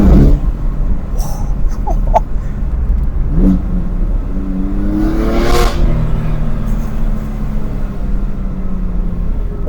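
A BMW F80 M3 with the S55 engine revs hard, turning raspy above 4,000 RPM: loud, rising engine howls with a sharp surge midway, close and continuous.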